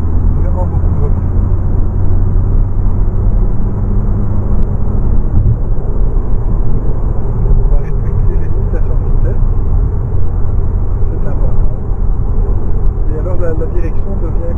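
Renault Scénic in sport mode accelerating, its engine a steady, loud low drone heard from inside the cabin with continuous road rumble throughout.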